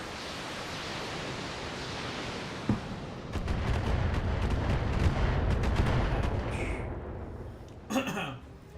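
Video game missile salvos and fire support from a retreating Centurion mech: a rumbling wash of distant blasts with a sharp thump and a burst of crackling impacts, ending in a brief louder hit.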